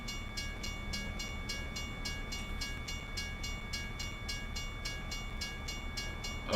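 A long freight train in American Truck Simulator rolls past with a steady rumbling roar and an even, rapid clacking rhythm of wagon wheels, continuous and fairly close, with no voices.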